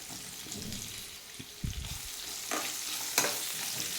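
Thinly sliced onion fries in hot oil in a ridge gourd curry, a steady nearby sizzle with clattering stirs and a sharp scrape toward the end.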